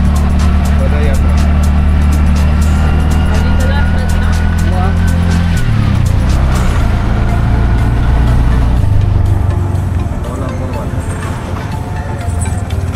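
Loud, steady engine drone of an auto rickshaw on the move, with road rumble and people talking over it.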